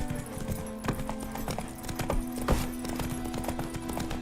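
Geralt's horse Roach clip-clops along in The Witcher 3, the hoofbeats sharp and regular at a trot, set over a sustained low game music drone.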